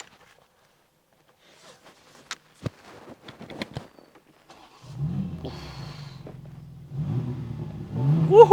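A 2024 BMW M2 starts up after a few soft interior clicks and taps. The engine catches with a bark, settles into a low idle, then gives two sharp revs, the last one the loudest, all heard close up.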